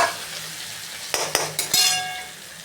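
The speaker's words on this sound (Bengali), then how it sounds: "এবার মশলাটা কষাবো।" A spice paste of tomato, ginger and cumin sautéed in oil, a soft steady sizzle punctuated by a few sharp metallic stirring clinks against the pan.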